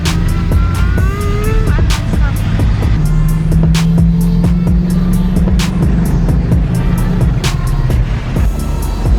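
A 1969 Pontiac Firebird vintage car drives fast, its loud, steady engine drone and road roar filling the cabin with shifting pitch, while people talk briefly inside.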